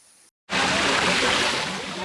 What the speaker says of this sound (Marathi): हा वॉटरफॉल पाहण्यासाठी.